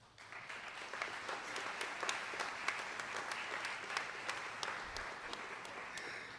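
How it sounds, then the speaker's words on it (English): Audience applause at a 2024 nurse pinning ceremony, a steady roomful of clapping hands sustained for several seconds at moderate distance, with no talk over it. "Let's give them a round of applause for their resilience."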